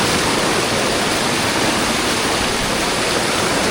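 Strong river water rushes loud and unbroken, swollen after three or four days of continuous rain, with no voices.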